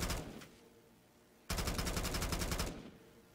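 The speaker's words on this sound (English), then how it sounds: "I have the Yoshi minigun." The Yoshi minigun in Black Ops 3 Zombies fires a rapid, rattling burst for over a second. A brief earlier spurt fades out before it, and the sound is loud and close with no talking.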